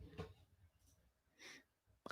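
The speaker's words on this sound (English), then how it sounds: "Oh, I got to sneeze." A person sneezes, a short sharp burst preceded by quick wheezy intakes of breath, close to the microphone in a quiet room.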